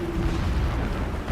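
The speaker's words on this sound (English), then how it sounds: "Explosions in the distance." Distant explosions rumble in the Horizon Zero Dawn game world, a dense, continuous low booming roar that stays steady and loud throughout the brief moment.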